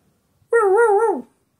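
A human voice imitates a dog's bark, a single drawn-out woof-like call, loud and close, standing alone with no other sound.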